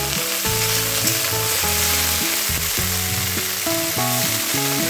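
Broccoli fries in hot oil in a pan and gets stirred, a steady bright sizzle heard over music with a clear melody, and no voices.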